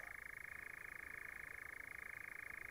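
A continuous, rapid churring trill of a European nightjar, steady and faint at a distance, with no breaks across the whole stretch, in pine heathland.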